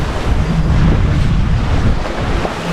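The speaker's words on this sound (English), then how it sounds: "The waves, it's always very difficult to show how big the waves are" Ocean waves roll and rush around a sailboat on a passage from the Faroe Islands toward Ålesund, Norway, a loud, close, continuous roar mixed with heavy wind buffeting on the microphone.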